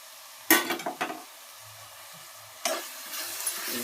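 Washed curry leaves tossed into a hot pan of softened onions, green chilli and tomato for country chicken curry, sharp crackling sizzles in two bursts with stirring clatter between, close and fairly faint.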